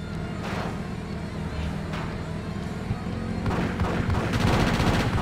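Gunfire in the GTA Chinatown Wars video game, a steady stream of shots with booming hits that grows denser and louder toward the end, heard under continuous game noise.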